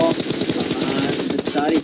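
Rapid automatic gunfire from the battle royale game PUBG Mobile during a competitive showmatch, a dense sustained burst of shots rattling loudly and continuously for the whole stretch, with a faint voice underneath.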